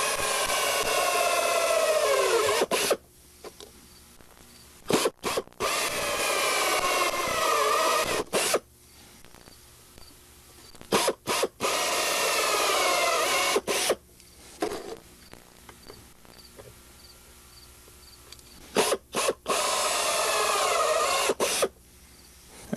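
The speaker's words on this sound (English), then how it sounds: "And once your reinforcing ring has been drilled, you can go ahead and use it as a drill pattern" Drilling a reinforcing ring on a Vans RV6 aircraft kit, with several loud bursts of a power drill whirring and biting into metal, separated by short quiet pauses and clicks, close up and without talk.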